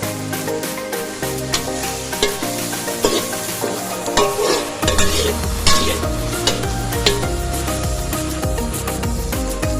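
Chili pieces stir-fry in oil in a pan for a shop-style chickpea dish: a constant loud sizzle with a spoon repeatedly scraping and knocking against the pan, the frying swelling louder partway through, no voices.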